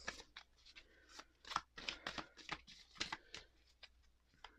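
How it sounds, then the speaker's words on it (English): A deck of cards is shuffled by hand in a quiet room, a run of quick riffling bursts and soft flicks that come close together. "Okay, let's shuffle. Let's shuffle the cards."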